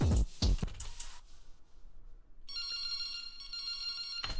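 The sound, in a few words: cell phone ringing sound in a music track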